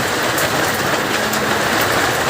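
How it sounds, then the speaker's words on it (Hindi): Rain mixed with small hailstones pours down steadily, a dense, loud, continuous hiss and patter with no breaks and no voices. "आज बहुत अरसे के बाद बारिश हो रही है और बारिश के साथ ओले भी गिर रहे छोटे छोटे"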